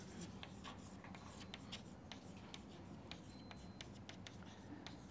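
Chalk or marker scratching across a lecture-hall board in short strokes and taps, faint and continuous against a steady low room hum, with no talking.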